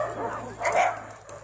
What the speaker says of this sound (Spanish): Esta es la perrera de Cocorí